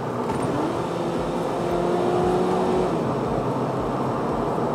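A Volkswagen Scirocco 2.0 TSI engine drones steadily up close, its pitch sliding and settling as it downshifts, with no talking.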